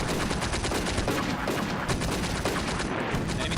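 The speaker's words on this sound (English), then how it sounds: "Yeah, so we are trading shots." Dense gunfire exchange in Combat Mission: Afrika Korps, a continuous rattle of rifle and machine-gun shots with no pauses, loud and close, alone without talk.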